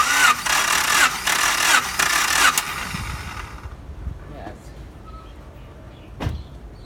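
Starter cranks a 1992 Honda Accord engine during a compression test, a rapid rhythmic whirring of about four revolutions that stops abruptly, followed by quiet shop noise and a single knock.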